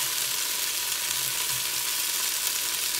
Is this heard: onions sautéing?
yes